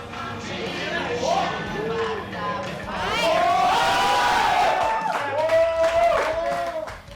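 A crowd at the Thailand Long Drive 2023 qualifying round cheers for a 384-yard golf drive, a sustained roar of voices that swells midway and stays loud, with shouts and whistle-like tones rising through it.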